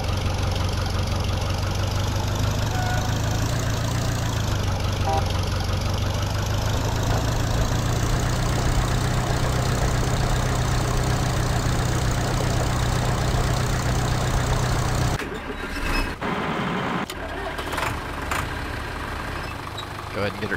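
A tractor engine idles in the farming game Farming Simulator 2013, a steady, loud, droning rumble that holds unchanged for about fifteen seconds before abruptly dropping and thinning out.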